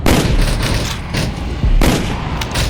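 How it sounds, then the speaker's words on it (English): Loud, close gunshots from S&Box Shoot House ring out in rapid repeated volleys, with a few short gaps between bursts and no talking. "How about we just shoot some of these guys for fun?"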